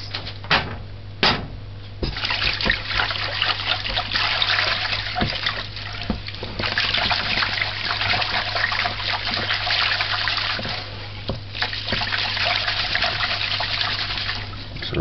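Steady running water trickles and splashes for the whole stretch, with a few sharper knocks and clatters, as water is poured over broken rice grains in a bowl to rinse them.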